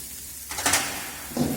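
Chopped onion drops into a hot pan with ginger and garlic, setting off a bright sizzle, followed by a brief scrape of stirring and a renewed hiss of frying.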